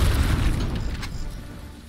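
Rocket explosion in the video game Aliens: Dark Descent, a short booming blast with a rumbling low-end tail that fades over about two seconds, heard alone.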